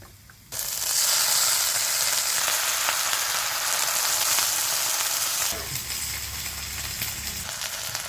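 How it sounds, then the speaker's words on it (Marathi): Finely chopped onion hits hot oil with a sudden loud sizzle that holds steady and then drops to a quieter frying hiss partway through, close by with no voices. "तेलात कांदा चांगला लाल होईपर्यंत भाजायचा"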